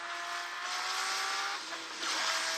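A fast race car in the Asphalt Nitro mobile racing game roars along at high revs, its engine tone sliding through gear changes, with tire squeal and rushing noise swelling near the end.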